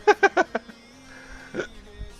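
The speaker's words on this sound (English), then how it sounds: "I get the hiccups" A person's hiccups: a quick burst of four sharp, close hiccups in a row, then a pause and one more, clear and loud with no talking over them.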